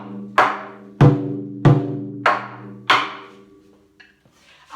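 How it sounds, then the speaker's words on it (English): Five sharp drum strikes in a steady pulse, two per beat space, each ringing out and decaying, loud and close with no talking, followed by a softer faint tap at the end. "On the drum, it sounds like this."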